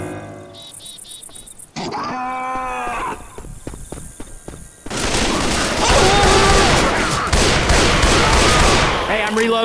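Gunfire and game sounds from Left 4 Dead 2 during a zombie-shooter round: rapid bursts of shots and clatter, then a dense, loud continuous barrage of firing and effects near the end.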